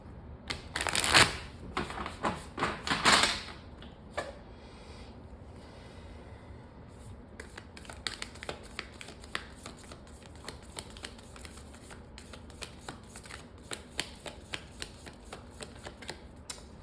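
Tarot cards being shuffled close by, two crisp riffling bursts early on, followed by softer intermittent shuffling and light taps.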